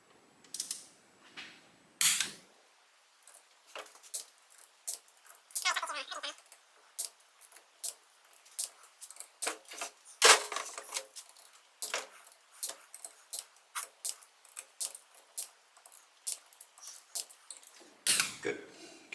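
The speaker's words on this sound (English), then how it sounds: "so torquing these crankcase bolts, 125 inch-pounds." A torque wrench tightens crankcase bolts on a 1985 Honda XL600R engine during transmission repair, producing scattered close ratcheting clicks and metallic clacks in irregular bursts, with some quiet gaps between.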